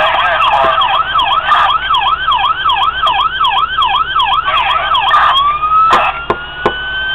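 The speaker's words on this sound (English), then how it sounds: "the sirens will run for a little bit" Wailing police siren from a custom 1:18 scale Forty Fort police department diecast car, a steady rising-and-falling electronic wail that cycles loudly and close, then switches to a rising whoop and ends with a few sharp clicks.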